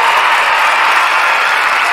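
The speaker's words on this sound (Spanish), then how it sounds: "Y un aplauso." Applause from a studio audience on a Spanish sports streaming talk show, a dense steady wash of clapping that holds loud and even throughout the short stretch.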